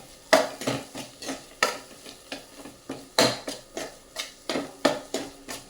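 Green pav bhaji being stirred with Everest pav bhaji masala, a spoon scraping and knocking through the thick mixture in a pan in a steady rhythm of about a dozen strokes, close and moderately loud over a light sizzle.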